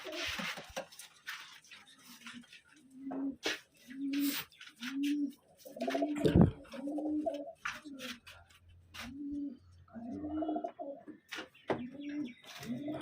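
Pigeons coo repeatedly at close range, rhythmic throaty calls spaced about a second apart, mixed with light rustling and handling noises.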